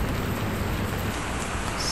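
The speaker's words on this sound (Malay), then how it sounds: "Hujan lah." Steady rain falling during a long-distance ride, an even broadband hiss of drops on the road with no breaks, fairly loud and close, no voices.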